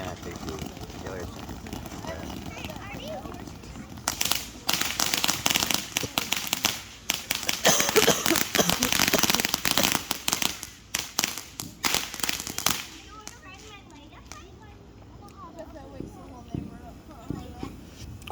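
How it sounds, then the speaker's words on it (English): Fourth of July fireworks and firecrackers popping and crackling in a dense barrage at a distance, with people talking throughout. "It's going to be fireworking all night."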